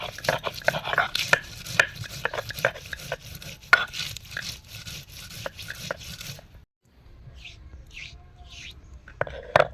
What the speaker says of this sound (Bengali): এখন মা পেঁয়াজ বেটে নেবে।